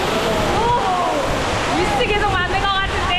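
A waterfall in Bali roars with a constant, dense rush of falling water close by, while someone talks over the steady noise.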